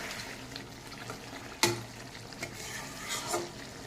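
Tangra fish cooking in a spicy curry in a pan, a soft bubbling sizzle with a few stirring scrapes and clinks, faint and close, with no talking.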